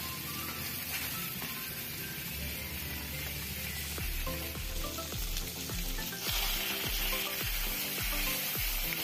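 Pork adobo sa asin fries in a pan, sticking to the bottom, with a steady loud sizzle while a spatula stirs it, scraping and clattering in a rhythmic run of strokes.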